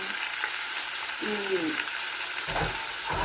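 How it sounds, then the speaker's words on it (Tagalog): Salmon pieces frying in a pan with ginger, a steady broadband sizzle throughout, with a brief utensil scrape and clatter near the end. "gusto ko sanang iprito muna dito ang ating isda"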